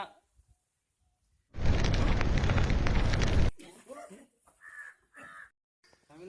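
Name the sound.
bomb explosion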